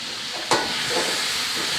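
Tomatoes hit a pan of frying masala for Afghani pulao, a sudden sharp burst of sizzle that settles into a steady loud hiss throughout.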